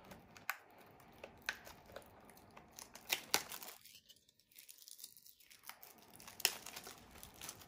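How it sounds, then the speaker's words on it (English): Wrapping torn off a box of Topps Star Wars Masterwork 2020 trading cards: quiet, close tearing and crinkling in sharp, irregular bursts, with a brief lull partway through. "Okay, unboxing the second box here."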